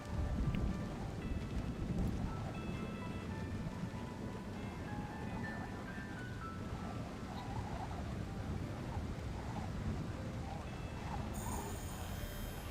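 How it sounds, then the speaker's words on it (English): Steady heavy rain pours throughout a stealth game level set around a lighthouse and cargo ship, with low thunder rumbling beneath the constant hiss, all moderately quiet and unbroken by speech. "The sound of thunder can be used to hide noises."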